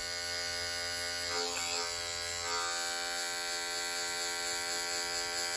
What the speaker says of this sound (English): I'm using my thumb to notch my clipper